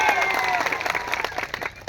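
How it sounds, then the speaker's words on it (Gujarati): A rally crowd breaks into applause, a dense wash of clapping with a few cheers and voices mixed in, fairly loud and steady throughout. "ત્યારે સૌ માટે એકવાર જોરદાર તાળીઓ પાડી લઈએ."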